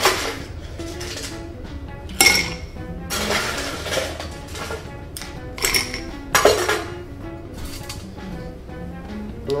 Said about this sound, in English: time to ice up and get stirring